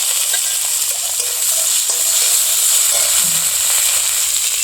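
Onion with ginger, garlic and cumin pastes frying in a pan: a loud, continuous bright hiss of sizzling oil with a few faint stirring knocks underneath, no voices.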